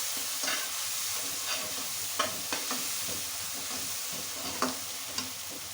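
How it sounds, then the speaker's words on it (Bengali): Cabbage stew with hilsa fish head is sautéed in a pan, a steady hiss of sizzling overlaid by occasional light scrapes and taps of a stirring spoon, close and continuous. "দিয়ে আবার এটাকে ভালো করে কষিয়ে নেব"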